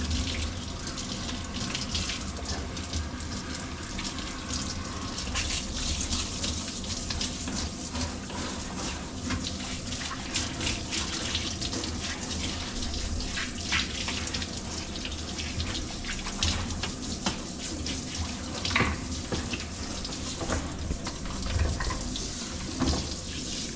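Tap water runs continuously while a dog is rinsed, a steady close splashing rush with small shifts in the flow and no talking.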